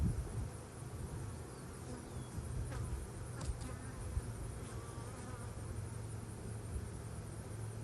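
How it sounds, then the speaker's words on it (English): Honeybees hum and buzz continuously at low volume around hives in a cow pasture apiary, with individual insects flitting past nearby over a faint outdoor background. "there's still a lot of bees in there"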